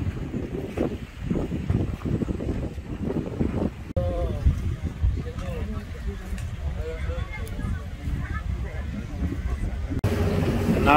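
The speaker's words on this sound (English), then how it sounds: "Now we are sailing to the pink beach." Tour boat sailing at sea near Komodo Island, a steady engine drone with wind buffeting the microphone and water rushing along the hull, while people talk throughout.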